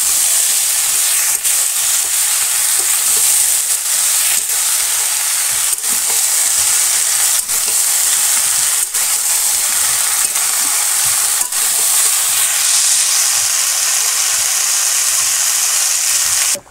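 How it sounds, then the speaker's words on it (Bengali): Malabar spinach stirs and fries in a pan in a village kitchen, a loud steady sizzle and hiss with regular scraping strokes of a spatula, no voices. "এখানে পুঁই শাকটা দিয়ে দেবো। এটা নাড়াচাড়া করবো।"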